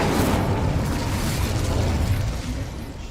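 An Incendio fire spell blasts in Hogwarts Legacy, a loud, sustained roaring whoosh of flame that holds steady for about three seconds and eases off slightly at the end.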